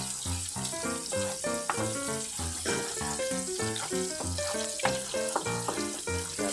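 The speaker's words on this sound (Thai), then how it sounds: "ผัดไปเรื่อย ๆนะครับ จับตัวกันแล้วครับ ให้แห้งพอประมาณนะครับ" Glass noodles with mixed vegetables and minced pork are stir-fried in a pan, giving a steady, close sizzle broken by rhythmic scraping and clattering stirs throughout. No one speaks.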